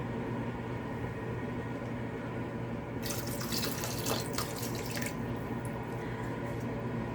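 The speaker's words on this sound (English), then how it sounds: "And then we add in a cup of water." Water pouring from a cup onto rice in an Instant Pot, a brief splashing trickle partway through over a steady background hum, fairly close.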